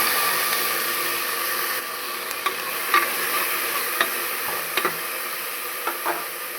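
Soaked black-eyed peas fry in oil for alasande kalu saaru, a steady hiss with occasional knocks and scrapes of a spoon stirring the pan.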